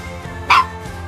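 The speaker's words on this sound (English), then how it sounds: "Dog's excited about it." An excited dog gives one short, sharp bark nearby during an outdoor barbecue where pork ribs are being basted with sauce, against a quiet background.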